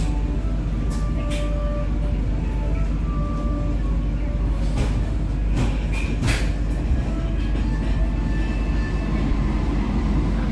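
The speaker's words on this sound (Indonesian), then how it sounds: "kereta api Argo Sindoro diberangkatkan dari stasiun Cirebon tepat pada waktunya" The Argo Sindoro passenger train, heard from inside the cabin, pulls out of Cirebon station with a steady, muffled low rumble and faint intermittent clicks and whines running evenly throughout.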